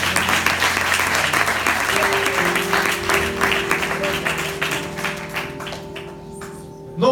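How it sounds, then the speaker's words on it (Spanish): A church congregation claps loudly in a sustained round of applause while sustained keyboard tones ring underneath, the clapping thinning and fading toward the end. "Denle un aplauso al Señor."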